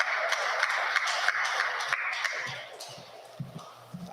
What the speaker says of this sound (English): Actually, it's pretty good applause in here since there's only like 8 of us.